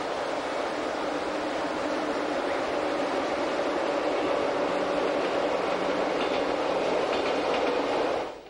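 Glacier Express train running on the Albula line through spiral tunnels and river crossings, a steady loud rumble and clatter of wheels that holds for about eight seconds before cutting off abruptly.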